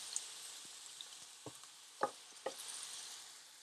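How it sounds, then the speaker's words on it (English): Onions saute in hot oil in a pan set to medium or medium high, a faint, steady sizzle broken by a few soft pops and stirring clicks. Nobody speaks. "make sure that your oil is hot. Put in your onions. Let that saute"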